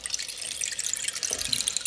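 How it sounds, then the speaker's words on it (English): A sampled rain stick from a New Age sound library gives a delicate, continuous shower of fine bright pattering grains, close and fairly quiet for under two seconds. "Gotta have a rain stick."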